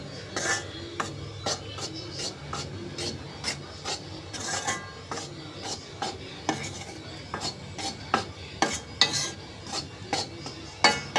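Wheat flour roasting with ghee in a thick kadhai on a low flame, heard as repeated scraping and rubbing strokes of a spatula against the pan in an irregular rhythm, close and fairly quiet.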